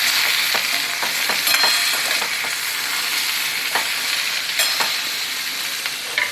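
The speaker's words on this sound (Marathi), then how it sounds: "तेलावरती मिरची आणि टोमॅटो छान परतून घ्यायचंय." Green chilies and tomatoes sauté in hot oil for a green tomato chutney, a steady close sizzle with occasional scraping clicks of stirring throughout, no talk.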